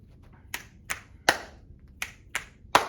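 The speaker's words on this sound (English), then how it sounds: "Let's do snap, snap, clap, just to see those who can snap." Sharp percussive claps or snaps ring out from a class, about six evenly spaced hits in a snap-snap-clap pattern, close and clear against a quiet room with no talking.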